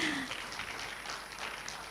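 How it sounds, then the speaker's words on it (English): An audience applauds at an official launch ceremony right after a poster is unveiled. The clapping is dense and continuous, fairly soft and steady for the whole moment. "A round of applause, ladies and gentlemen."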